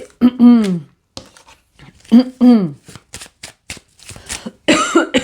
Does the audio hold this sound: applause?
no